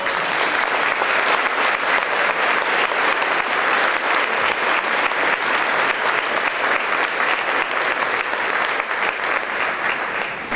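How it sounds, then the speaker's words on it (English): Sustained applause from a large audience at a high school wind symphony concert, steady and loud throughout with no pauses, dense clapping filling the whole stretch. "So if we could have a round of applause"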